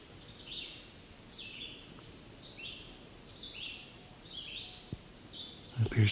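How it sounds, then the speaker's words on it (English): Sharp, high chip notes of a black-and-white warbler repeat at irregular intervals, several in a row, over a quiet outdoor background with faint insect hum. "It appears to be a black and white warbler ticking."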